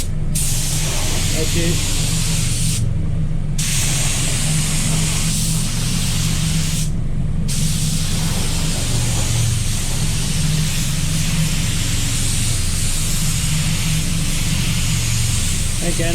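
A Walcom HVLP spray gun lays down wet-on-wet primer in a loud, continuous airy hiss, broken by two brief pauses when the trigger is released; a voice speaks briefly.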